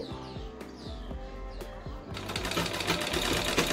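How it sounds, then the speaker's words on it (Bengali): A sewing machine stitching the panel of a pajama, giving a fast mechanical rattle of needle strokes that starts in short bursts and then runs continuously and louder in the second half, close by, with no talking. "এবারে কলির কাজটাও সেলাই করে নিচ্ছি।"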